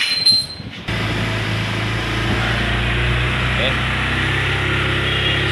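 An engine idles high with the choke on during a pre-delivery inspection, a steady close drone with a firm low hum after a brief scrape and startup, holding evenly throughout.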